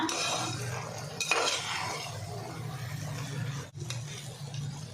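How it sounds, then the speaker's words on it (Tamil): A spoon stirs carrot halwa in a pan over low heat, making soft, continuous scraping and clinking with a faint sizzle, fairly quiet and close, with no talking. "வந்து மிக்ஸ் பண்ணி நல்லா சிம்மில் வச்சுக்கோங்க, அடி பிடிக்காம"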